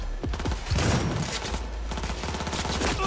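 A shotgun in Cyberpunk 2077 fires a rapid series of loud, close blasts amid chaotic combat noise and echoing impacts, continuous throughout with no talk.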